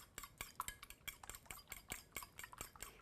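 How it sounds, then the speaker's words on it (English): Eggs being beaten in a bowl with a whisk or fork, a quiet, steady run of quick metallic clinks and taps at close range. "We are now going to beat the eggs"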